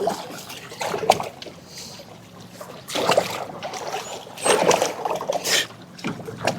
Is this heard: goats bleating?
no